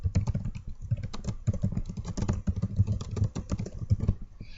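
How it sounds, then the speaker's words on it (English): Rapid, continuous clicking of computer keyboard keys being typed on, close and steady, with no talking. "Simply click and begin typing."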